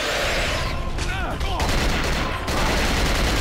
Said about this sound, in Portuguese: Minha arma não para de atirar